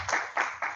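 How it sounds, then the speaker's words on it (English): A few sparse handclaps ring out at a San Francisco committee meeting, three quick separate bursts close by, with no talk over them. "Pause for applause."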